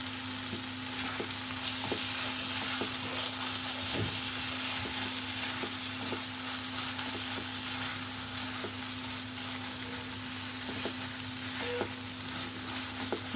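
Poppy seed and garlic paste, made with white sesame and eight crushed garlic cloves, sizzles steadily in a pan for a Bengali soybean posto, with occasional soft clicks of stirring and a constant low hum in the background.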